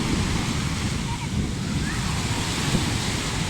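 Sea waves wash onto a beach near Chonburi on a summer day, a loud, continuous surf roar close to the microphone, with wind buffeting mixed into the steady rush.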